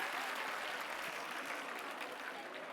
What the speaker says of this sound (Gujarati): ફરીથી એક વખત જોરદાર તાળીઓથી બાળકોના ઉત્સાહને વધાવીશું.